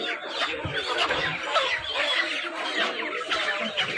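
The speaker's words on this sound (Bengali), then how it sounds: "দেশি মুরগি বিক্রেতারা রয়েছে যারা বাজারের একেবারে নিচে মুরগি সাজিয়ে রেখেছে" Native country chickens cluck and squawk continuously at a big town market where sellers keep them laid out on the lower level, a dense nearby flock chattering with no voices over it.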